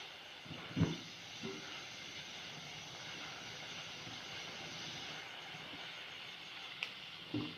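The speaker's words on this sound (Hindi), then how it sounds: "चीनी को उबाल आना शुरू हो गया है, आप देख सकते हैं" Sugar syrup boiling in a pan for sooji barfi gives a faint, steady hiss with a few soft bubbling pops near the start and end, and no talking.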